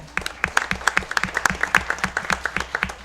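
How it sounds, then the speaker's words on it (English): Applause for a performer at a school board of education meeting: a small group claps in a loose, fairly steady patter of distinct hand claps, close and moderately loud, with no talking over it. "a round of applause to him"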